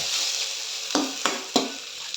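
Crab dry fry sizzling steadily in a pan, with three distinct scraping stir strokes of a spatula about a third of a second apart near the end, close and fairly loud with no talking.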